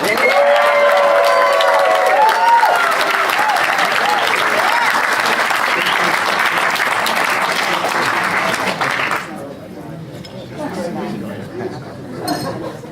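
Warm audience applause with scattered cheers and screams greeting a speaker, a loud continuous clatter of clapping that cuts off sharply after about nine seconds, leaving room noise and a voice beginning to talk.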